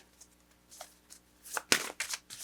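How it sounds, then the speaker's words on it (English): Tarot cards shuffled by hand in several quick riffling bursts, close up and fairly loud, with brief pauses between, no talking. "I'm feeling like Shuffling these cards a little bit more."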